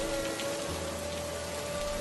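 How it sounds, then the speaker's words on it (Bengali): Cartoon storm rain pours in a dense, steady hiss with a faint tonal hum underneath; no distinct thunder clap stands out during the short stretch. "বাইরে একবার তাকিয়ে দেখ, যেমন বজ্রপাত পড়ছে তেমন ঝড় বৃষ্টি।"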